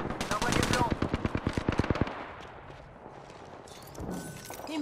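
An automatic weapon in the Apex Legends video game fires a rapid burst of about two seconds, loud and close, then gives way to quieter game ambience, faint movement sounds and a brief muffled voice.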